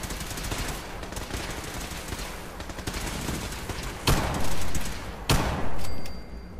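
Heavy automatic gunfire in Fallout 4, continuous loud rapid shots throughout with two sharp louder blasts near the end.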